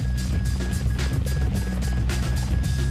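A V-22 Osprey tiltrotor aircraft gives a steady, loud rotor and engine drone with a pulsing low-frequency thrum and a constant high whine, running without pause throughout.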